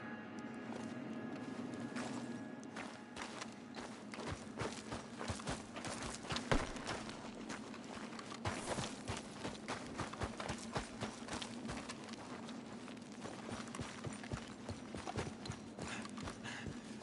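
Horse hooves clip-clop steadily in Red Dead Redemption 2, a continuous rhythmic trot heard close and fairly loud over a low ambient game backdrop, with no talking.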